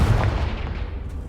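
A Confringo fire spell explodes in Hogwarts Legacy, a short booming blast with a rumbling low end that decays quickly within about a second.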